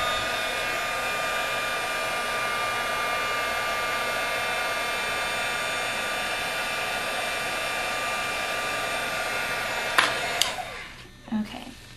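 Heat gun blowing hot air over embossing powder on a card, a steady loud whir running nearly the whole time, with a couple of clicks and a sharp drop as it switches off near the end.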